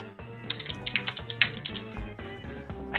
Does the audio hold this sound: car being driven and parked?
no